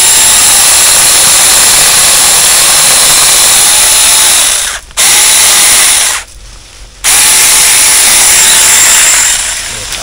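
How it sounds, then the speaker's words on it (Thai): A loud, steady whining cordless electric saw cuts through a tree branch, running continuously and cutting out briefly twice before starting up again. "ผมก็จะมาเลื่อยออกนะครับแล้วผมจะเลื่อยจากข้างบนก่อน"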